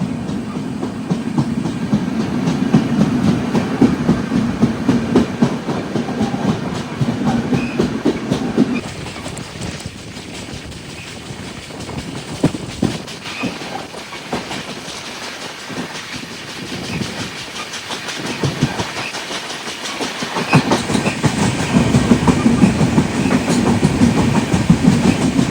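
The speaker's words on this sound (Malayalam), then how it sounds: "രത്നഗിരി ദിവ പാസഞ്ചറിനാണ് നമ്മൾ ഓവർടേക്ക് അടിക്കുന്നത്" The Kerala Sampark Kranti Express on the Konkan Railway overtakes the Ratnagiri–Diva passenger train during the monsoon, with a loud, continuous rumble and rhythmic wheel clatter that eases in the middle and swells again near the end.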